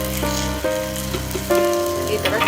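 Bele obbattu, a sweet stuffed flatbread, sizzles in a little oil on a hot pan, a steady close hiss beneath sustained melodic background music.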